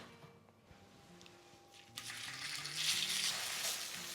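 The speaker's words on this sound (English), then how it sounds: "I will fry the steak in a pan" Steak lands in a hot pan after a quiet, low-hum start. A loud, hissing sizzle bursts in about halfway and swells into a dense, crackling fry that carries on to the end.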